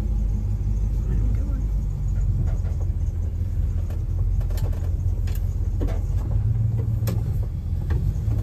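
A lowered Dodge D100 pickup with a newly fitted transmission shift kit drives down the road. Its engine and road noise make a loud, constant low rumble, with a few faint clicks and thumps from the cab.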